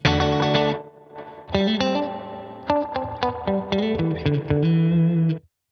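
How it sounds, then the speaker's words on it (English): Electric guitar chords and single notes ring out with spacious amp reverb and no tremolo through a Fender Tone Master Pro, a pause after the opening chord, then a steady strummed run that stops abruptly. "We have the reverb from the amplifier."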